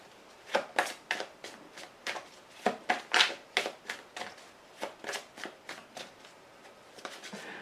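Tarot cards shuffled by hand in a run of about fifteen crisp, rapid riffles and slaps, close and fairly loud, with no talking over them.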